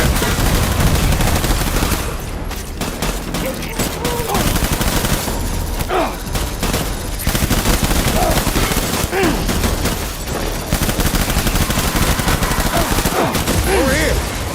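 Gunfire in the video game Death Stranding, dense bursts of automatic shots and rapid volleys filling the scene almost continuously, loud and close, with brief lulls between barrages and some voices mixed in.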